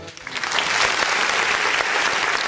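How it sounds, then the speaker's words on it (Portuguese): Congregation applause at a church worship service, a dense, sustained clapping that swells in the first half-second and stays loud and steady, with faint voices mixed in. "vamos aplaudir o Senhor."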